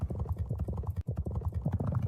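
Horse hooves gallop in a steady rapid clip-clop rhythm during a virtual horse race game, loud and continuous, with a brief pause midway and faint voices underneath.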